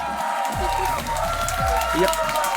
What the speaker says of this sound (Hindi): तो शुरू करते हैं तालियों के साथ।